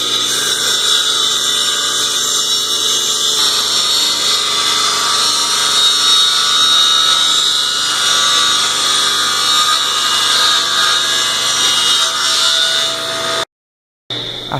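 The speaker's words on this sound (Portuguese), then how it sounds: "passei os 4 lados do tampo na serra para corrigir as" A power saw trims the four edges of a wooden dining tabletop, one loud steady high-pitched whine running continuously for many seconds before cutting out briefly near the end.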